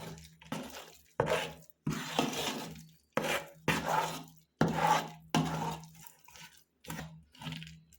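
Homemade mango pickle is mixed by hand with sesame oil in a run of separate squelching, rubbing strokes, about ten wet bursts with short pauses between them, close and fairly soft.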